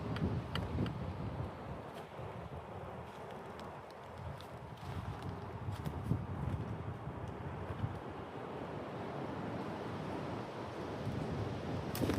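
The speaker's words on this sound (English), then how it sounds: "It's also windy today." Wind blowing through woods, a steady rough rumble with gusty bursts buffeting the microphone, continuous and fairly loud throughout, with no voices.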